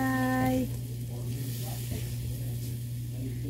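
Adobong kangkong with pork cubes, garlic and onion is stirred in a frying pan, giving a faint steady sizzle and soft scraping after a brief tonal hum at the start.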